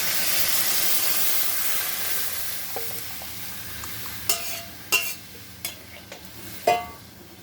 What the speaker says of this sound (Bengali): এখন ডালটা দিয়ে দেবো।